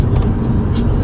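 A turbocharged 2017 Subaru WRX launches hard from a standstill, a brief loud burst of deep engine roar close by with no speech over it.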